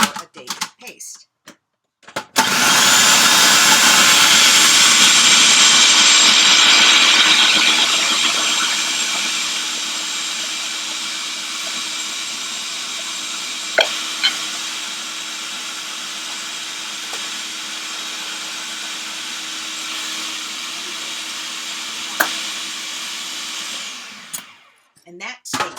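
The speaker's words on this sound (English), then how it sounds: "now we're going to process these dates into a puree or a date paste." A food processor purees soaked dates into a thick paste, its motor whirring loudly and steadily for about twenty seconds before gradually easing off, with a few knocks and a brief stop at the end.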